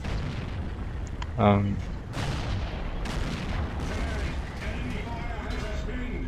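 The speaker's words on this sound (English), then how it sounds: "That is artillery." Artillery shells strike a tank in the World of Tanks video game, one sharp loud boom followed by rumbling battle noise, with someone talking over the action.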